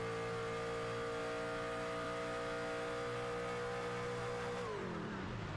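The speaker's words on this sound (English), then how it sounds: "Listen for the engine to cut out." A race car engine holds a loud, steady drone on the Brickyard oval, then cuts out abruptly near the end, its pitch falling away as the power drops.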